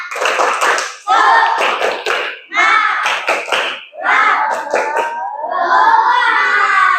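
Children chant together in a classroom in rhythmic bursts, punctuating the phrases with sharp group claps, loud and close.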